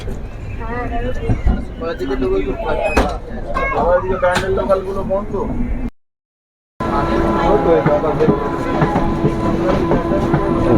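Inside a sleeper-class coach of the 12838 Puri Howrah Superfast Express, a loud, steady rumble and rhythmic wheel clatter run under people talking, cut off by a brief silent gap before the train noise resumes.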